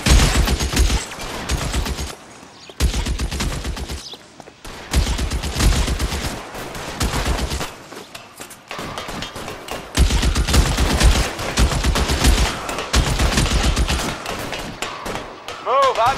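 Video game gunfire aimed at a city bus: loud rapid bursts of automatic shots and single cracks repeating through the scene, with voices speaking between volleys.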